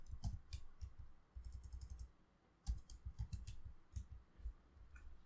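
A computer keyboard clatters as a short command is typed, with quick bursts of close, crisp key clicks separated by brief pauses, quiet and without talk.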